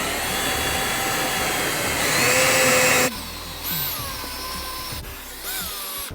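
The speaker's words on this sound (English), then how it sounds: "Now with my drill brush, I'll gently start agitating this area and all along the armrest here." Drill brush with soft bristles scrubbing fabric car upholstery and an armrest during interior detailing: a steady, loud whirring motor hum that cuts out midway, then returns in two shorter bursts, with no talking.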